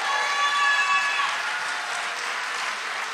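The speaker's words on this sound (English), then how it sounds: "Clap your hands in Jesus' name." A church congregation claps and cheers during a revival sermon, a loud, sustained wash of applause with crowd cheering mixed in, steady across the whole stretch with a few brief whistle-like tones early on.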